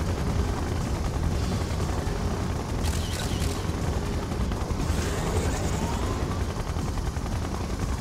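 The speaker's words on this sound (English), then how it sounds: "Siege chopper checking in." A Siege Chopper helicopter in the Red Alert 2: Yuri's Revenge strategy game gives off a constant loud rotor roar, dense and unbroken, mixed with scattered game combat noise.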